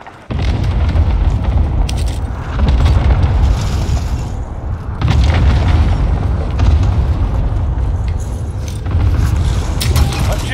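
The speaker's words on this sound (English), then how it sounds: "Airstrike target marked." Airstrike in COD Warzone Rebirth Resurgence, heavy booming explosions rolling in successive waves with deep sustained rumble, loud and close, brief quiet at the start before the blasts hit.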